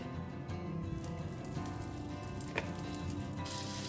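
A spoonful of butter melts in hot oil in a pan, giving a steady, even sizzle that holds throughout, with one brief faint clink partway through and no voices.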